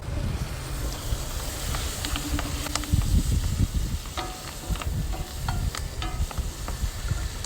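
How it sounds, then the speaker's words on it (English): Spinach wilts in a hot pan on an outdoor BBQ, crackling and sizzling with stirring scrapes and clinks over low outdoor rumble and some wind noise, close and moderately loud. "We're gonna take some spinach and watch this wilt down fast"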